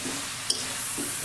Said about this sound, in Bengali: তারপরে শাকটা নেড়ে সুন্দর করে মিশিয়ে নেব